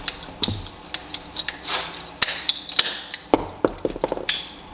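Radiant heat tubing being cut for a fitting, a run of sharp clicking snips and crunches in quick irregular bursts, close and fairly loud with no talk.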